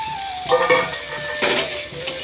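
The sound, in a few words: chopped tomato added and stirred in pan, semolina upma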